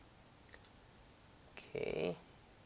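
A computer mouse clicks while working in ANSYS Fluent simulation software, giving a couple of faint light clicks followed by a short, louder cluster of clicks up close.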